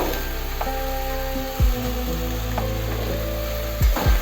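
Food frying in a pan during the start of a Bengali bottle gourd dish, a loud continuous sizzle broken by a few scraping stirs with a spatula.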